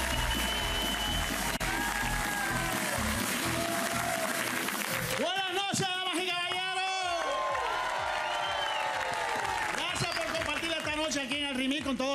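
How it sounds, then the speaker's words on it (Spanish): A television studio audience applauds and cheers in a sustained, loud burst, blended with shouted voices and music throughout. "¡Fuerte el aplauso!"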